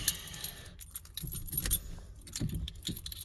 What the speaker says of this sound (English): Get the keys in her.